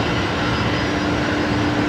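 Steady broadband roar of a large Atlas Boeing 747 at Brisbane Airport, a continuous engine rumble with a faint whine, loud and unbroken throughout with no talk.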